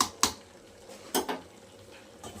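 A metal lid clinks onto a pot of mixed vegetables and greens cooking on the stove: a sharp clink followed by a second quieter double clatter, with faint sizzling in a quiet kitchen.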